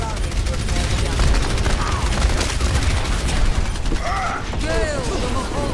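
A gunfire volley in a video game, dense crackling shots and mechanical rattles forming a continuous loud barrage, with voices speaking over the battle.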